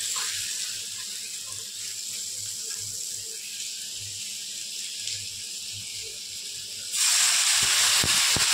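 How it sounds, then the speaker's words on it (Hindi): Water is poured into a pan of frying masala in a village home kitchen, a steady hissing, running gush that continues for several seconds, then a sharp loud sizzle as the water meets the hot spices, with no talk. "फिर पानी देंगे"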